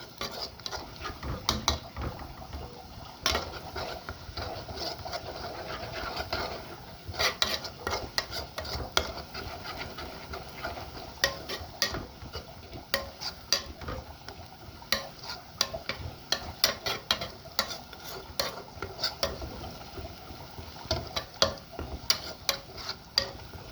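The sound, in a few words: tomatoes added to frying onions for stuffed vegetable sauce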